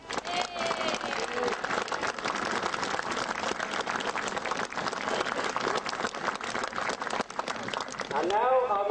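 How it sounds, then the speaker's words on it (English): A crowd at an outdoor Christmas lights event applauds, dense continuous clapping that holds steady for several seconds, with cheers or calls rising near the end. "I think we all ought to give them a little clap."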